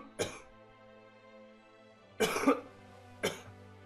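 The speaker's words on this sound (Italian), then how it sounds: "è terribile questa tosse" Three separate coughs from a man playing a Game of Thrones strategy game mod, spaced apart and fairly close, over a low steady hum with no speech.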